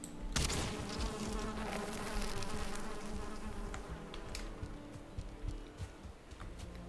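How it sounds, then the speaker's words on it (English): Bees from a pond-side building in the Valheim video game buzz in a loud, continuous drone, with small clicks and pops scattered over it. "oh my god, the bees, man"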